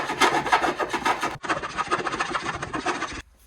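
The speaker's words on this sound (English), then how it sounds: "So I'm gonna try to just file all these down." Steady, harsh rasping of a metal file scraping back and forth over protruding staples on a round stool seat, loud and close, with a brief pause partway through before the strokes resume, then stopping.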